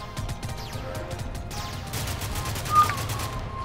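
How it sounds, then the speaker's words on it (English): In Minecraft, dropped bombs set off rapid crackling bursts of explosions that clatter and pop continuously, with a brief louder bang near the end. The blasts are mixed with game noise and faint background talk. "I don't know how many bombs I've dropped, but things seem to be catching on fire."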